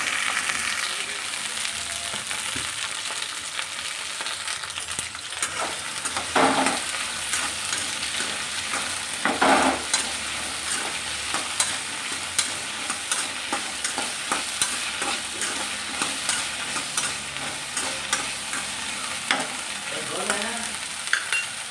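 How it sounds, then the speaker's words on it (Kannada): Steady sizzling of okra frying in oil, with occasional scraping and stirring knocks from a spatula in the pan; no voices. "ಬೆಂಡೆಕಾಯಿ ಚೆನ್ನಾಗಿ ಫ್ರೈ ಮಾಡ್ಕೋಬೇಕು"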